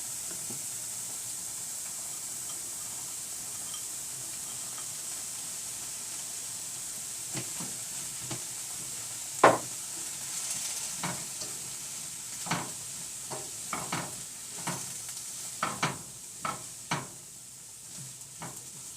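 Corn is added to chayote cooking in a pot: a soft steady sizzle holds for several seconds, then a sharp clatter of kernels and a run of quick stirring scrapes and knocks against the pot.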